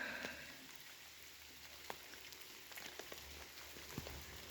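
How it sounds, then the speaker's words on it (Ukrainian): Heavy rain falls steadily, a dense, even hiss of drops striking surfaces with a few sharper individual splashes standing out, heard alone without voices. "дощ посилився"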